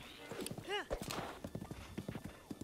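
Hooves clip-clop in a quick rhythm and a horse whinnies once in Zelda: Breath of the Wild, with someone talking over the game sounds.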